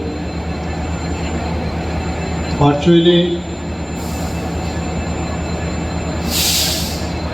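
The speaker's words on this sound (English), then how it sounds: "the program of flagging of Kamakhya Lokmanya Tilak Express and flagging of Agartala Sabroom demo train" An Agartala–Sabroom demo train at Badarghat railway station during a flag-off ceremony gives a steady rumbling rail noise with a brief wheel squeal midway, and a voice speaks one word.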